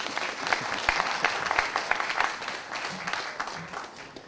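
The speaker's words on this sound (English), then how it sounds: "I'm pretty much sure the energy is there for a little applause" Steady applause from an audience at a public forum fills the whole stretch, dense clapping at a constant level with no pauses.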